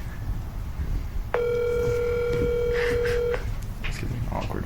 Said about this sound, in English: I'll try calling one more time.